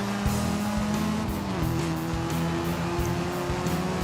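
A Pagani Zonda's engine in the racing game Forza Horizon 5 roars loudly and steadily at high revs, with a brief shift in pitch midway and a hint of tire squeal.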